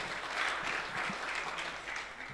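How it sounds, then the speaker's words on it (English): Short burst of audience applause at a film summit awards ceremony held at a university in Kenya, a steady dense patter of many hands clapping at moderate volume with no talking over it. "Please clap for John as he sits down."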